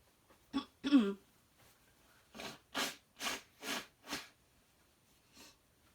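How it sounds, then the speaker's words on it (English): A couple of sniffling snorts, then four forceful nose blows in a quick, even rhythm, close and fairly loud. "I'm just going to blow my nose again"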